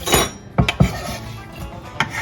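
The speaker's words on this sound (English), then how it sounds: "once this is all chopped up very finely, I just dump it into a mixing bowl" Finely chopped ingredients for macaroni salad scraped and dumped into a mixing bowl: a few rubbing scrapes and sharp knocks on the board and bowl, close and moderately loud.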